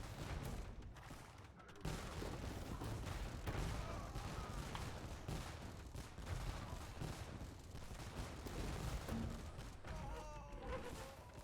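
Dense, continuous battle gunfire and cannon-like booms from a real-time strategy game match, volleys overlapping in a busy, fairly quiet barrage with occasional heavier thumps.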